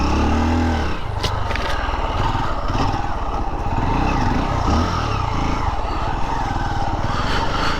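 A 2024 Honda XR150L motorcycle climbs a hill, its single-cylinder engine droning steadily and loudly throughout with constant rough mechanical texture and no talk.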